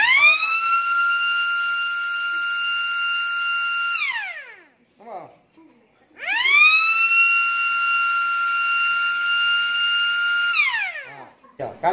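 A temperature sensor alarm sounds when heated, giving two long sustained electronic siren tones that each fall away at the end, separated by a short pause with brief faint noises, loud and close.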